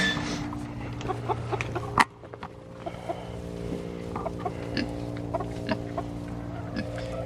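Silkie chickens cluck softly in their backyard coop, scattered low calls over a quiet background, with one sharp thump near the two-second mark.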